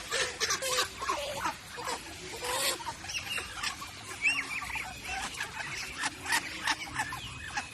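Busy poultry noise: a flock of turkeys gobbling, with chickens clucking, in rapid, overlapping bursts, fairly close, with no talking.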